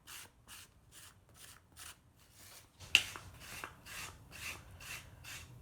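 A scraper rubs over a clay slab in a series of short, regular scraping strokes, soft and close, with one sharper tap partway through and no talking.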